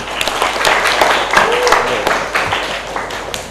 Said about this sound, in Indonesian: Sekali lagi kita aplaus untuk kita semua.